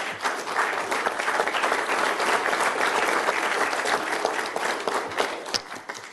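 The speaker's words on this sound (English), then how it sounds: "Usually we don't allow applause, except for after Scott Summers speaks." Steady applause from a council meeting audience right after a motion passes on a 7-0 vote, dense and sustained for about six seconds before easing slightly at the end, with no speech over it.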